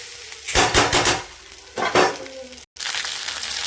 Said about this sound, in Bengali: এটা একটু ভাজা ভাজা হতে থাক।